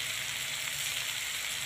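Sweet corn roasting in butter in a pan, a steady close sizzle and crackle of frying that holds constant throughout with no voices.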